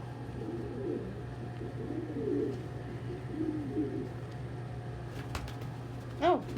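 Pet birds coo softly and steadily during a morning feeding with birds. The low, repeated cooing continues throughout, and a brief higher call sounds near the end.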